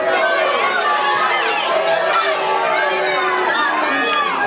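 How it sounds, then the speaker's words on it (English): Dense, loud shouting and chatter from an angry crowd at a wrestling match, jeering the referee, with many voices overlapping continuously throughout. "Crowd is mad."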